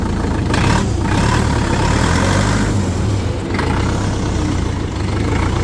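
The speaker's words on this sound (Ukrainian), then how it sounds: "Відео, як правильно працює двигун 4 циліндри." A four-cylinder engine on a Terra Force 455L four-wheel-drive mini tractor runs steadily at idle, loud and close, with a constant low rumble and a slight change in tone midway.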